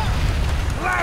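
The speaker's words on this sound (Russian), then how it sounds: "Может быть, то просто фейерверк взорвался" A low, rumbling explosion from a Kung-Fu Panda video game, a heavy boom that fills the short moment, with game sounds layered on top.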